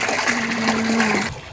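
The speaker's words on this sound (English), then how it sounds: "Water's coming in slowly." Water pours steadily into a shallow custom koi pond, a continuous splashing, trickling flow with a faint steady tone running beneath it, close and moderately loud throughout.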